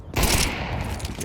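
Pistol gunfire in the Counter-Strike video game, a short loud burst of rapid overlapping shots that fades quickly, with no voice heard.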